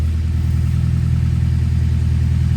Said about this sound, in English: this is a full 3-inch exhaust I made custom for this car, so it's got a little pop tune on it